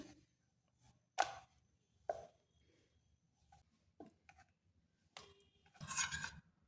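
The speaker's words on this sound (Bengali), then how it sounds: "এখন আমি পরোটাগুলো বেলে নিচ্ছি" Methi aloo paratha dough being rolled out into rounds: sparse, soft knocks and short scraping rubs on the board, quiet and close, with long pauses between strokes and no talking.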